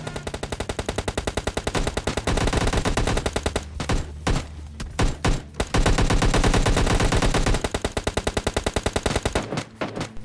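Rapid bursts of automatic gunfire in the video game PUBG Lite rattle loudly and continuously, broken by a few short pauses and single shots, with no voices.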